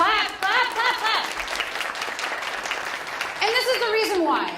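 Audience applause at a Palestinian comedy festival show, a steady wash of clapping running the whole time with a voice speaking over it.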